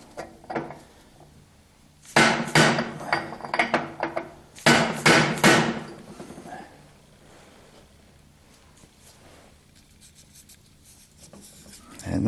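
Metal socket hammered against a 1976 Corvette rear wheel bearing to drive it into the hub: two close bursts of about five rapid ringing blows each, near and loud, with quieter clinks and shop noise between.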